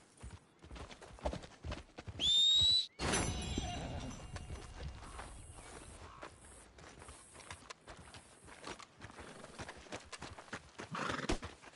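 Horse hooves clip-clop through a Red Dead Redemption 2 scene, with a loud, sharp whinny near the start followed by steady, moderately close hoofbeats that continue throughout alongside faint background sounds.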